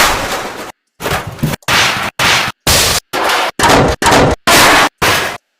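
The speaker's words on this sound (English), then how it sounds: "let me just pick another one. Crash metal." A library metal-crash sound effect fires about nine times in a row, each loud, harsh burst lasting roughly half a second and separated by short dead-silent gaps.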